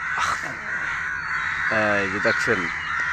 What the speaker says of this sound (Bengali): কাক চলে আসছে।